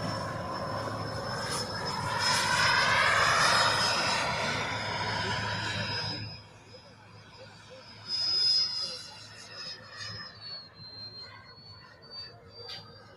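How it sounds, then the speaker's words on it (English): An RC F-22 with a 105 mm electric ducted fan jet flying: a loud, rising and falling whoosh as it sweeps past, then a quieter whine with a brief swell later, heard over background noise. "What they're flying is AR F-22 105 millimeter EDF."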